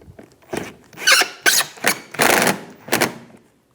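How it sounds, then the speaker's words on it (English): Screws being tightened on the front and rear mud flaps of a 2010-2016 Cadillac SRX, heard as a series of short close squeaky bursts of a driver turning, with brief gaps between turns. "And I'll tighten the screws."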